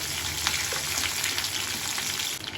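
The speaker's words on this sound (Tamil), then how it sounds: "கொஞ்சம் கடுகு உளுத்தம்பருப்பு பொரியட்டும்." Mustard seeds and urad dal spluttering in hot oil give a dense, steady crackling sizzle with faint scattered pops, close and even throughout the short stretch.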